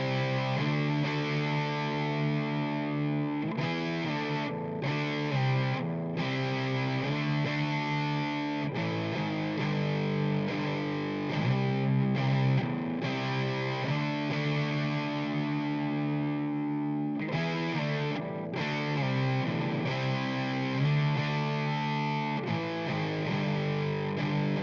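A heavily distorted electric guitar part, reamped through an Ugly 18 amp, plays chunky sustained chords and riffs with brief stops, loud and dense throughout.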